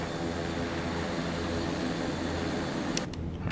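A steady, droning propeller aircraft engine hums while taxiing in a flight simulator game, constant and fairly loud, cutting off abruptly near the end.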